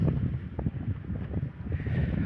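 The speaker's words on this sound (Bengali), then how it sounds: "উত্তর দিক থেকে বাতাস আরও বেশি বেশি হচ্ছে" Low, steady wind on a cold winter morning rumbling and buffeting continuously, with gusty noise filling the low end throughout.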